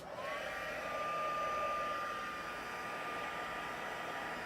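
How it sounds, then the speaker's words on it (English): A heat tool blows hot air over a handmade paper Christmas card, a steady mid-level whooshing rush with a thin whine running through it, continuous and fairly close, with no talking. "I'll just come in with my heat tool."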